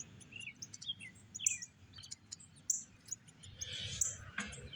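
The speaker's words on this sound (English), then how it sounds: "It is a wild bird." A wild bird chirps in short, high, separate calls, fairly close but faint over a low background hum, with insect-like buzzing in the gaps.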